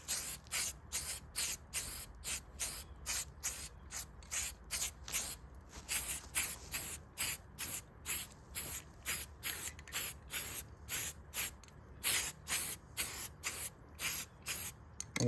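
Short bursts of spray from a rattle can lay down light dusting coats of paint toward fine-line tape on a custom paint job, hissing up close in a steady on-off rhythm with brief pauses between passes and no talk.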